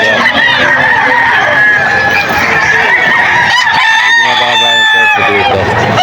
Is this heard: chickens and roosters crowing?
yes